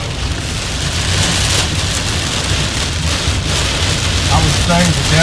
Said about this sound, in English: This storm is really dropping some rain